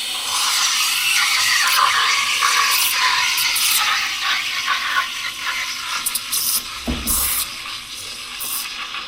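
An espresso machine steam wand steams milk, a loud airy hiss with gurgling that softens over time, broken near the end by short clicks and a low thump.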